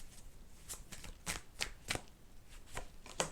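Tarot cards being shuffled by hand at close range, a quiet series of crisp riffling slaps in an irregular rhythm, with no talking.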